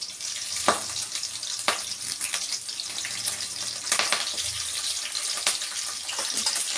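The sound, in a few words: curry leaves sizzling in hot oil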